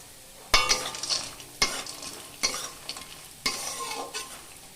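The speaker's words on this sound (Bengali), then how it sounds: "আলুটা ভাজা হতে হতে আমি অন্য একটি কড়াইয়ের মধ্যে ভেজে নিচ্ছি" Lentil dumplings (bori) fry in oil in a kadai, a steady sizzle broken by four sharp scraping stirs of a spatula against the pan, close and clear with no talking.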